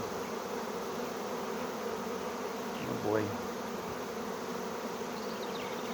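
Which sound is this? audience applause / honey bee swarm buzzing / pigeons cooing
honey bee swarm buzzing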